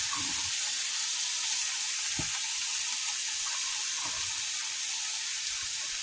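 Peppers and onions sizzling in a small heavy skillet at home, a steady hiss of frying with a few faint clicks, constant and moderately close, no talk.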